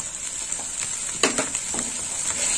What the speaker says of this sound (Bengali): মৌরি বাটা দেওয়ার পরে একটু কষে নেব